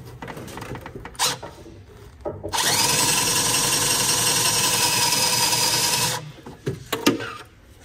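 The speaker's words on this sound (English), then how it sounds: "I've reached in there with my metal saw, and I'm going to cut the clamp off" A metal saw cuts through an old, rusty fuel filler hose clamp on a 1976 Datsun 280Z with the tank tilted, a steady harsh rasping that runs for about three and a half seconds between scattered handling knocks.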